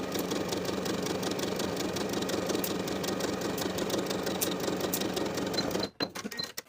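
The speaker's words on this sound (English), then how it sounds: "Sew the long edges from one side to the other with a 3/8 inch seam allowance." A sewing machine stitches the long edges of fabric ties, running in one continuous, even, close whirring drone for about six seconds before stopping, followed by a few small clicks.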